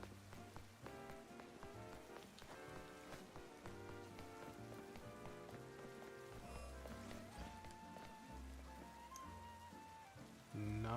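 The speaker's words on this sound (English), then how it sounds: "Oh, now it's raining." Steady rain falling in Pokémon Legends: Z-A, a soft continuous patter layered under the game's melodic background music throughout.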